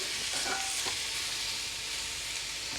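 Boiled, peeled potatoes added to a pan and stirred, giving a steady soft sizzle of frying with faint scraping, no voices.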